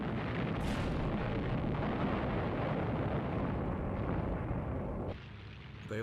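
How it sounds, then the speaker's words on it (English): Japanese Zero fighters strafe US aircraft on island airstrips, a dense, continuous roar of gunfire and explosions that stays loud for five seconds before dropping off sharply near the end. "Japanese Zero fighters strafed US aircraft lined up on the island's airstrips."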